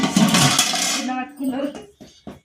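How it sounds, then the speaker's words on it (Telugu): Bowls and dishes clatter sharply in a brief burst as two people serve food at a simple home anniversary meal, followed by softer knocks and a few voices nearby. "గిన్నె వేసుకుంటున్నారు ఇద్దరు"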